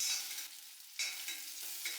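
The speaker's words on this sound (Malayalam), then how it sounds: "അത് നല്ല പോലെ ഒന്ന് നമുക്ക് താളിച്ചെടുക്കാം." Papaya leaves and other greens hiss and sizzle quietly in hot coconut oil, with a few short louder bursts as they are stirred in the pan.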